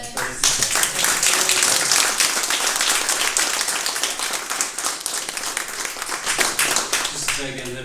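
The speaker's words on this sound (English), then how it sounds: "Can we please have a round of applause for" Audience at a talk on the future of work breaks into sustained, dense applause lasting several seconds, loud and steady, then tapering slightly near the end.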